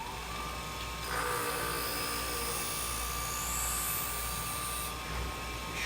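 Convex-edge scissors are re-sharpened at 35 degrees, giving a steady, moderately faint whirring grind throughout, a bit louder for a few seconds in the middle.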